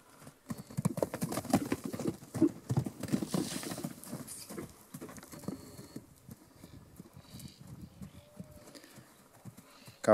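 Hooves of a purebred Criollo colt clop and patter irregularly on the ground, moderately close, with a quieter stretch near the end.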